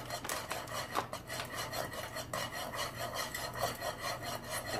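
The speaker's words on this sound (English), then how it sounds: "Maybe whisk that a little bit first." Whisk scraping steadily around a pot of sauce in a home kitchen, a quiet rhythmic rubbing and rasping of metal against the pan, heard close and alone.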